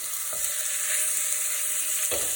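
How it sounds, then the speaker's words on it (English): Pork chops sizzle steadily in a frying pan beside thin apple slices, a constant bright hiss with a couple of soft clicks as pieces are laid in; no voices. "Nice sizzle."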